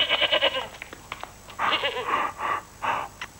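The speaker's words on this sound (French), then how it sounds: "Sa chèvre." A goat bleats several times, in nasal wavering cries, some short and some drawn out, fairly close in a film scene with faint background voices.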